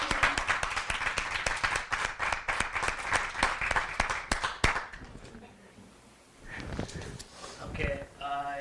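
A group claps together in dense, steady applause that runs strong for about five seconds, then cuts off; afterward come quieter scattered sounds and a voice.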